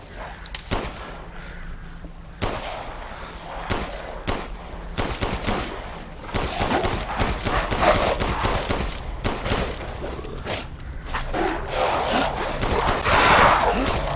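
Rapid bursts of gunfire in the survival horror game Resident Evil Village at Lycan's Stronghold, loud repeated shots with thuds and chaotic combat noise throughout, no clear talk.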